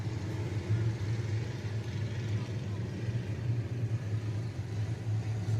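Several dirt-track race cars rumble together at Deep South Speedway during a heat race lineup, a steady low engine drone that holds under an announcer's voice throughout.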